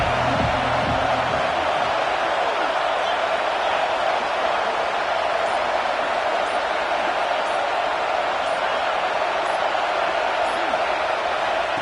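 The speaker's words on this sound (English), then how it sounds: "3rd down, and the crowd really getting into it." Stadium crowd at a football game roaring on a third-down play: a loud, continuous wash of cheering and noise that holds steady from start to finish.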